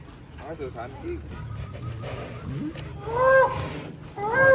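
Giant cattle low and moo in a couple of deep calls near the end while being loaded onto a Fuso truck, with people talking and general farmyard commotion around them.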